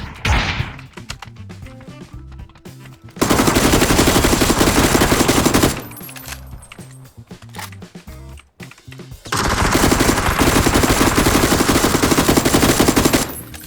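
Automatic fire from a K2 rifle in the PUBG battle royale game, two long sustained bursts of rapid shots, loud and close, separated by quieter stretches of scattered thuds and game sounds.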